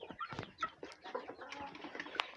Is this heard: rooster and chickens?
yes